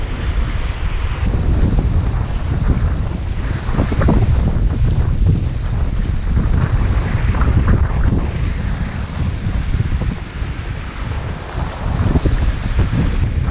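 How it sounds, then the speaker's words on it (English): Strong 20-knot wind rushes steadily past a sailboat at night on a broad reach at 8-9 knots, a loud continuous roar with water swishing along the hull and gusty buffeting on the microphone throughout. "the wind is piping at 20 knots on a broad reach, doing 8-9 knots"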